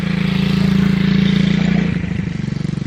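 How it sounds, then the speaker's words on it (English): A tractor fitted with a blade works on a recycled crushed-concrete driveway, its engine a steady close, low drone that settles into a rhythmic chugging pulse near the end, with no talk. "But we got to use our tractor a little bit."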